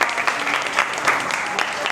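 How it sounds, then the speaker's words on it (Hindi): Steady applause from a small group at a family Eid gathering, lasting about two seconds, with murmured voices blended into the clapping. "ये इस माँ के लिए ढेर सारी तालियां"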